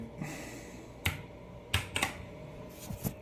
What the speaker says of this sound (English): I got to do some typing real quick.